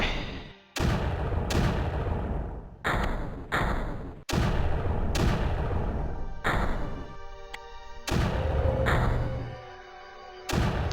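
Mortars firing in the Creeper World strategy game: a series of loud, heavy booming thumps, around eight blasts at irregular intervals, each a sharp onset with a sustained rumbling tail, no talking.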